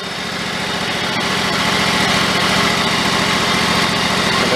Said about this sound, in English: Trying to turn the idle speed down, but that's probably low as it wants to go